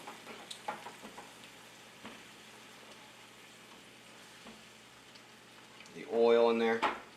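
Venison and peppers sizzle in a frying pan with oil, a quiet steady fry that swells into a louder burst of stirring and scraping near the end, with faint talk early on.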